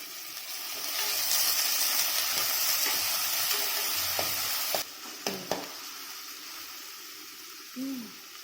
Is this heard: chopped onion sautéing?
yes